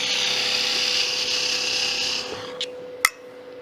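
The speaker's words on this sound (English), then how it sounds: "My handle running right down the center axis of the lathe." Wood turning on a lathe: a gouge scrapes a spinning box blank of wood harder than aspen with a steady hiss and whir, then the cut stops, leaving the motor's hum and a sharp tap near the end.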